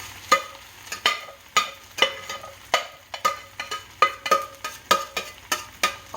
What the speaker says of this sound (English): mix our rice-a-roni with our stewed meat